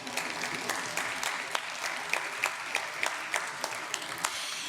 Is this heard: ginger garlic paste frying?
no